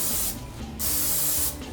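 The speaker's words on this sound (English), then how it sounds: "We're going to spray them down with some non-stick." Non-stick cooking spray hits raw chicken wings in two short, loud hissing bursts close by, with no talking.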